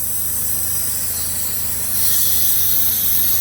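Continuous loud hissing of R134a refrigerant gas escaping from a car air-conditioning line, a steady high rush that grows slightly stronger partway through, close by with a low mechanical hum underneath.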